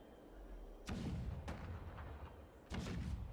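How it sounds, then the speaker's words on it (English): Cannon fire rumbling in a video game battle, two heavy booms spaced apart, each one sharp and followed by a deep sustained rumble over a low ambient backdrop. "Do you hear that? The rumble of the cannons."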